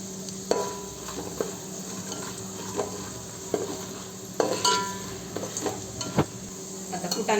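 Peanuts fry in a pan for poha chivda, a low steady sizzle under repeated scraping strokes of a spoon against the metal, close and fairly quiet.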